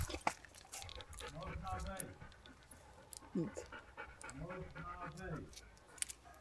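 Dogs panting close by in rapid breathy bursts, with people talking over them now and then at a motorhome stop in Poland.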